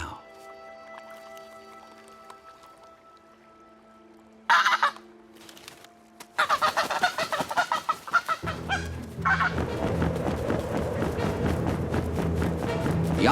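A young wild goose, left behind by its family, gives repeated plaintive calls that are thin and isolated at first, then sudden louder cries break in before a dense, noisy wash covers the end.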